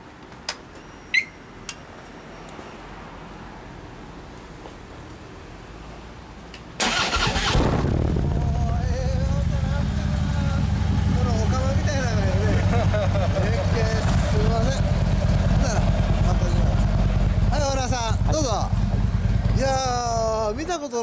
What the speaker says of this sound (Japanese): すみません、エンジン音聞かせてもらえますか？